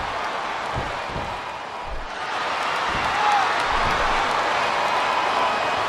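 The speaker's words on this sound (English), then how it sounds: "I cannot remember the last time I've seen a crowd this pumped up." In WWE SmackDown vs Raw 2008 on Xbox 360, an arena crowd cheers during a women's match, a dense, steady roar that swells a little partway through and keeps going.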